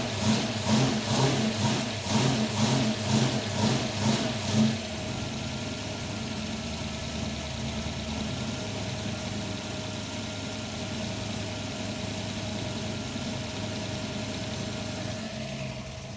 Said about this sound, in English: That's what a solid cam and lifters will sound like when it's lumpy.